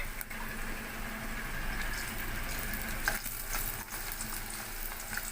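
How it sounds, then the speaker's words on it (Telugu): Green chillies fry for a dried fish curry with gongura and brinjal, giving a steady, close sizzle with bubbling oil and occasional stirring scrapes throughout, and no talk. "ఇప్పుడు పచ్చిమిర్చి వేస్తున్నానండి."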